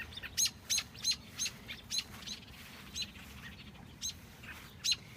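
Parent birds swarming around a baby bird give sharp, high chirps, about ten bright calls in a loose, irregular rhythm over a faint outdoor background hum.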